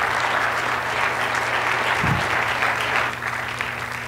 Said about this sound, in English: How about a round of applause for Christian?